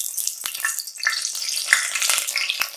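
Curry leaves hit hot coconut oil in a pan while cooking Kochi-style beef vindaloo, giving a steady close crackling sizzle with scattered sharp pops throughout.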